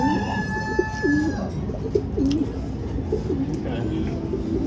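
Breeder pigeons in a loft coo at feeding time, soft repeated rolling coos over a busy background of other birds, with someone talking nearby.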